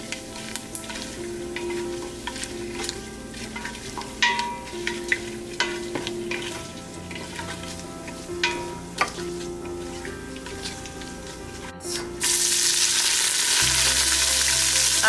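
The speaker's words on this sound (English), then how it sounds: "And we'll saute it until it's aromatic." Marathi moggu, cardamom and kasuri methi sautéing in a pan for mutton donne biryani, a steady close sizzle with scattered scraping stirs, swelling into a loud, continuous hiss near the end.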